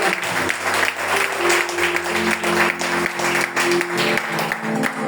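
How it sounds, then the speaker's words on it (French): A church congregation bursts into loud, sustained applause that fills the hall for several seconds. There are bursts of cheering and a few voices mixed into the clapping. "Est-ce qu'on peut acclamer le Seigneur? Allons-y. Acclamez bien. Acclamez fort."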